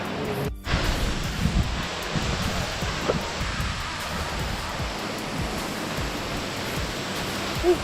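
A waterfall near Villa de Leyva, Colombia, gives a steady, rough rushing roar that fills the whole stretch, with a brief sharp click near the start.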